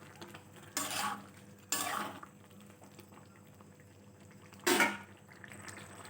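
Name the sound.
stirring lentils with turmeric in a pot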